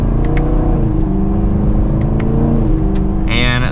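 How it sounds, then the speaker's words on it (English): A 2024 Chevrolet Camaro 2SS accelerating hard, its V8 engine note climbing steadily and loud from inside the cabin, with a brief shift or change in tone near the end. "But let's do one last acceleration."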